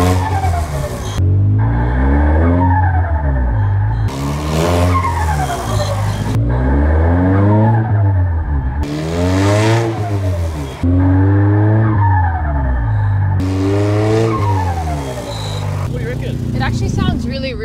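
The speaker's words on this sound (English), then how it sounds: "you can probably hear the Triple S has a terrible exhaust leak. Like it basically sounds straight pipe." An SR20 engine with a severe exhaust leak, close to straight-piped, revs hard through repeated rising and falling sweeps with squealing tyres, loud and continuous like a race car, while a voice talks over it now and then.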